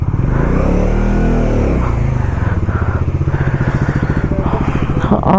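A motorcycle engine drones loud and close on a Ladakh road trip, holding a steady low thrum with a rapid pulsing rhythm throughout.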